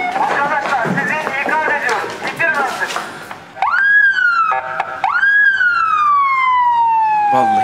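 Excited voices talk over background commotion, then a police car siren rises and wails loudly and close, sweeping up and down repeatedly as it arrives during a bank robbery scene.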